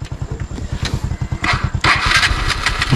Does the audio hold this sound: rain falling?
no